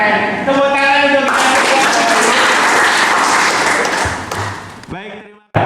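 Audience applause at a parenting seminar, a loud, dense burst of clapping lasting a few seconds that tapers off, with a voice talking just before it starts.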